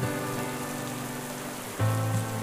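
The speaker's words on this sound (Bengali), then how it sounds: "সকাল থেকে অঝোর ধারায় বৃষ্টি হচ্ছে" Heavy rain falls steadily on a rainy monsoon day, a dense continuous hiss of drops on surfaces that holds constant and close, swelling slightly louder near the end, with no talking.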